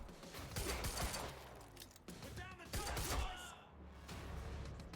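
Gunfire in Quantum Break, bursts of rapid shots and thuds in a chaotic firefight, loud and close, mixed with game effects and occasional faint speech.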